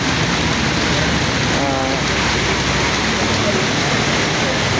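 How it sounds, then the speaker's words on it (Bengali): Heavy rain pouring in Dhaka, a loud, continuous dense hiss of downpour with no break. "প্রচুর বৃষ্টি হতেছে আজকে"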